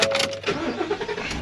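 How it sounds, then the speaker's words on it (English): A 2022 regular cab pickup truck's engine runs while warming up, a steady close rumble with a few uneven surges and no talking. "Already had the truck warming up."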